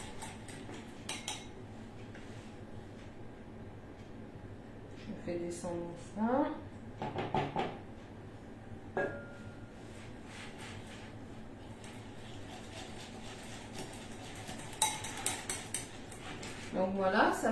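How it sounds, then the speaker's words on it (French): A utensil stirs melted chocolate into brownie batter in a bowl, giving soft scraping and occasional clinks against the sides, with a nearby voice speaking briefly between the kitchen sounds. "je vais à nouveau mélanger pour bien incorporer le chocolat"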